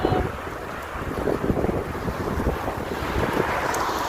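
Strong wind blows outdoors on a street, buffeting the microphone with a steady loud rumbling roar that gusts throughout, with no one talking.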